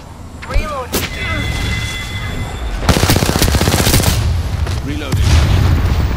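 Gunfire from the video game Apex Legends, with scattered single shots early, then dense rapid automatic bursts that crackle loudly and continuously through the later part, mixed with other game sounds.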